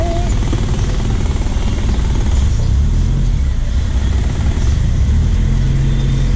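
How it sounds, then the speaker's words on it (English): A car with power steering drives through Malindi traffic, its engine a loud, close, continuous rumble with road noise throughout and a faint rising whine early on. "Let's navigate a bit more Malindi traffic"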